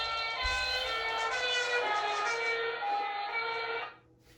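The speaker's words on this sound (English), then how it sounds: "So in this case, it's going to be a rescue vehicle." A rescue vehicle's siren wails loud and close for about four seconds, then drops away quickly and leaves near silence.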